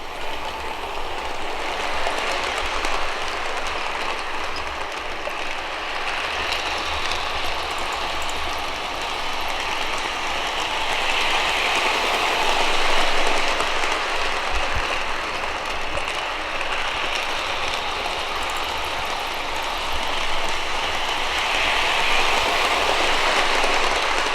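Lionel Polar Express O-gauge model train running on its track, a steady close rumbling whir with faint rhythmic clatter that continues evenly throughout without any talking.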